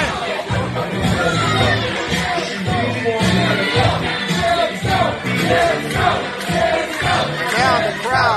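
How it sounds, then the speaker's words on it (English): A crowd at a wrestling event chants and cheers in a dense, continuous roar of many voices that stays loud and close throughout. "Now the crowd, they're chanting for Gemstone."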